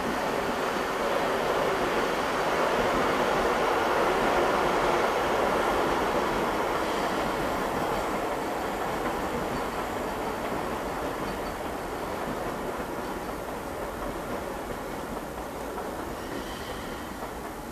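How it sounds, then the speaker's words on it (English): A train rumbles past near a London station, a steady loud roar of rolling wheels that gradually fades as it moves away. "if you can hear that that's a train passing by because I live near a station"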